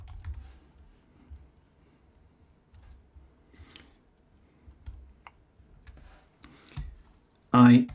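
A computer keyboard clicks as a short terminal command is typed, scattered soft keystrokes close by and fairly quiet, ending in a brief louder burst.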